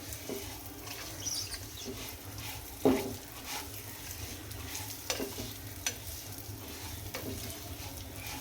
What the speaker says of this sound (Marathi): तुपामध्ये मी रवा टाकून घेतला आहे आता आपल्याला मस्तपैकी गोल्डन असा सोनेरी कलर येईपर्यंत हा जो रवा आहे तो भाजून घ्यायचा आहे